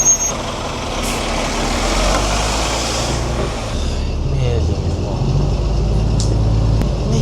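A heavy route 274P bus running at rush hour bound for Wu Kai Sha, its deep engine rumble and air-brake hiss steady throughout, with faint intermittent reversing beeps and some background voices.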